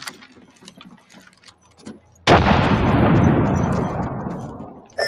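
A frag grenade detonates in Apex Legends after a few quiet ticking clicks, a sudden loud blast whose rumble slowly fades over several seconds.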